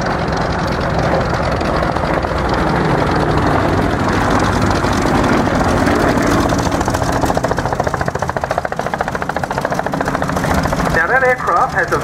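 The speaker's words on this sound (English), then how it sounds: "Now once again, the Yak-52 is being flown today by Dave Forsyth." A Yak-52 aerobatic aircraft flying a display at an air show, its engine a steady, loud, continuous drone throughout, with a commentator's voice over a public address running beneath it.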